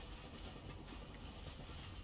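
A train rumbles past in Dishonored, a continuous low clattering roll of wheels on rails that stays steady and quiet throughout, with no talking.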